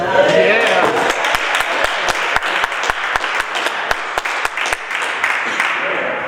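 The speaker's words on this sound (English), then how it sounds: "We also round of applause, yeah." Audience applause fills a public budget hearing for 2023-2024, a steady, loud wash of many hands with sharper individual claps standing out, continuing throughout without a break.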